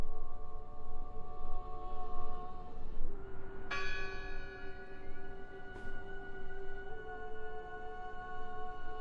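Church bell in the video game Draugen, ringing with long sustained tones over a steady low ambient hum, with a fresh strike partway through and another faint strike later.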